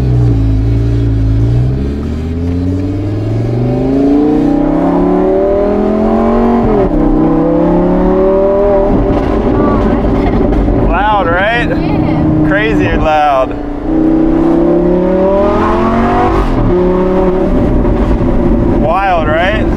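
Loud engine of a diamond-covered Lamborghini revving hard during a ride, rising and falling in repeated surges with deep rumble, while people talk over it throughout.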